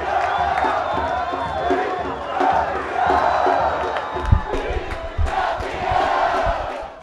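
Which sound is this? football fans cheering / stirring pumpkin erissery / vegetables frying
football fans cheering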